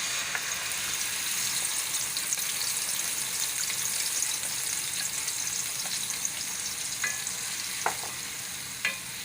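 Beef frying in a pot with a cup of oil, a steady loud sizzle with stirring scrapes and a few sharp pops near the end, no voices.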